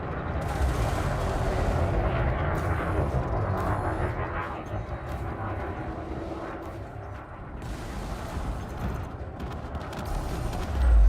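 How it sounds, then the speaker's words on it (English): Heavy cannons firing during space combat in Elite Dangerous, a dense rumbling barrage of booms and crackle that runs continuously under a soundtrack bed, loud and close throughout. "those cannons absolutely destroy stuff"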